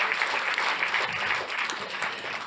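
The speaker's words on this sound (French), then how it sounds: "On peut les applaudir." An audience at an insurance awards event applauds, a brief burst of steady, dense clapping that fades slightly at the close.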